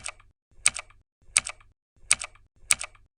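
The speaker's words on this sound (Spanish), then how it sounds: "los propios switches de Razer, que suenan así: el switch verde," Razer green mechanical keyboard switches being pressed: five evenly spaced, crisp clicky keystrokes, each a sharp double click with a soft low thud, close and isolated against silence.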